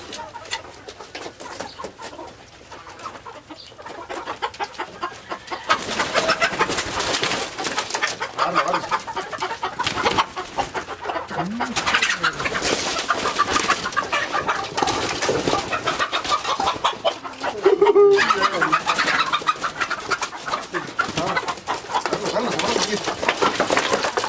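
Chickens and a rooster cluck and coo nearby in a backyard flock, a continuous busy chorus of fowl calls, with a person speaking briefly in the middle.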